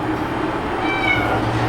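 A cat gives a short, fairly faint meow over a steady low background hum, with no one speaking.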